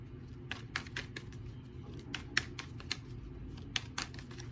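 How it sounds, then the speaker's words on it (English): Tarot cards being shuffled up close: quick, irregular soft riffling clicks over a quiet background hum, with no voices. "I'm going to shuffle a little bit."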